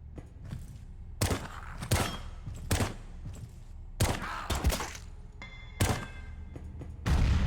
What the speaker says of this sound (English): Somebody threw a grenade. Wasn't expecting that.